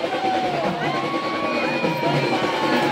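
Villagers in Satere Jamge cheer and shout as a tall palkhi-kathi is carried in a Shimga festival procession, a dense, steady crowd roar with scattered whoops and voices mixed in throughout.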